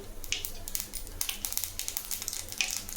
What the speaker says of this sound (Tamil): கொஞ்சம் கடுகு போட்டுக்கலாம் கடுகு பொரிஞ்சதும்